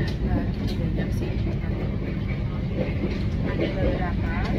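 Steady low rumble of a passenger train running from Bandung to Jakarta, a continuous loud rolling drone with faint rattles and murmured voices inside the carriage.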